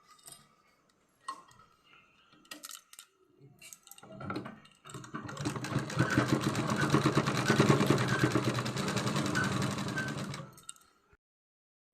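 Stitching runs along the side of a fabric school escort on a sewing machine, starting after a few scattered handling clicks, then a dense, loud, continuous motor-and-needle rattle for about five seconds before stopping.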